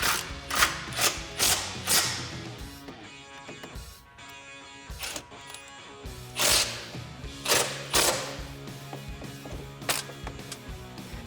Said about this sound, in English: Then we can take our 13mm swivel socket and our impact. Go ahead and tighten down this top one.